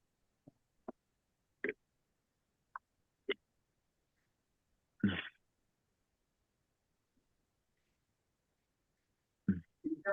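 A single loud sneeze bursts out midway through an otherwise quiet stretch, followed by a few brief voices and small clicks.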